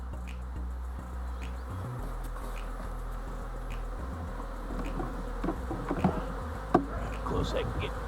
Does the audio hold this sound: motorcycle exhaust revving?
no